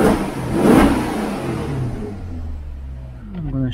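Maserati Quattroporte engine idling steadily after about 40 minutes of running and a short drive, a continuous low hum with a brief swell early on and faint voice at the end.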